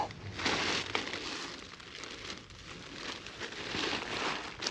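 Cellophane packaging is handled during fishing gear prep, giving close, irregular crinkling and rustling bursts that rise and fall in loudness, with no speech.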